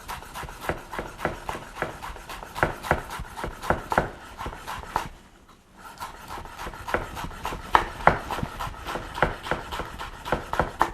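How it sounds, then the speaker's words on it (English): A kitchen knife chops a tightly bunched pile of fresh herbs on a cutting board in a fast, steady run of close, crisp thuds, broken by one short pause midway. "then just simply chop away"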